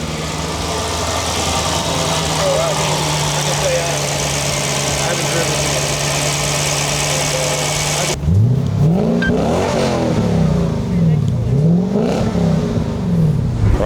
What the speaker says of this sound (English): we're here with the car now, the GS400 Supercharged.